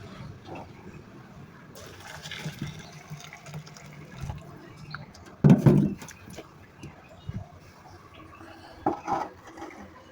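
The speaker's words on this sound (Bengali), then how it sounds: "এবার গরম পানি দিয়ে দিব" Hot water is poured into a clay cooking pan (kadai) with a little turmeric, giving a short, close splash and gurgle that rises briefly above quiet kitchen clatter.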